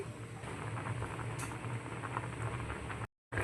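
Tomato rasam boiling in a pot, a steady close bubbling and popping simmer that runs evenly for about three seconds before cutting off abruptly.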